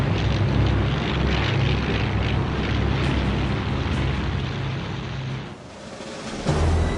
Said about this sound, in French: un Condor, avion allemand de reconnaissance à longue portée